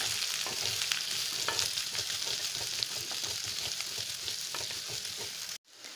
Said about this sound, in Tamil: இப்போ இது கூட நம்ம வந்து கட் பண்ணி வச்சுருக்க வெங்காயத்தை சேர்த்துக்கலாம்.